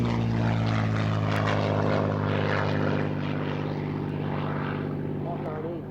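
A Spitfire Mark 9C propeller aircraft at an airshow drones loudly and steadily overhead, its engine roar easing slightly near the end as someone talks over it.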